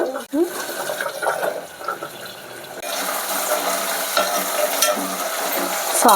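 Cut potato and carrot pieces drop into a cooker and are stirred through hot oil for a tomato pulao: clattering and scraping over a wet sizzle, getting busier partway through, with a voice heard at times.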